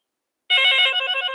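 A telephone ringtone starts abruptly after a short silence, a bright electronic trilling ring that continues loud and alone.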